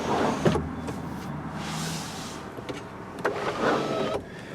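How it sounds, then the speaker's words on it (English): A 2018 VW Golf GTI SE's large power sunroof venting up, a steady electric motor whir lasting a few seconds inside the quiet cabin, bracketed by soft button clicks. "you can vent the sunroof up by pressing this button in"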